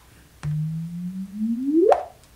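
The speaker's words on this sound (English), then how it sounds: "this is the sound of a gravitational wave" Simulated gravitational wave chirp, a lone pure tone that holds low and steady, then sweeps sharply upward in pitch and loudness over about a second and a half before cutting off abruptly.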